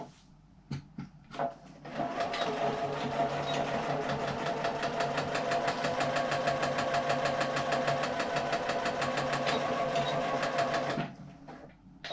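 A sewing machine runs a steady, fast stitch for about nine seconds along a 1 cm side seam of a fabric hand sanitizer pouch, preceded by a few sharp clicks of setup before the motor starts.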